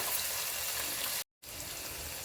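Onions fry in a pan for coconut milk rice, giving a steady, close sizzling hiss that briefly cuts out before continuing.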